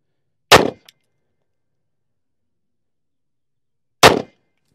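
A Colt Defender 1911 in .45 ACP fires Hornady ammunition, two sharp, loud isolated gunshots about three and a half seconds apart, the first followed by a faint metallic tink, with silence between.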